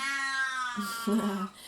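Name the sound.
old cat meowing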